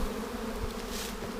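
Honeybees swarm around a busy, overwintered hive, their dense, steady buzzing filling a brief moment with no pauses.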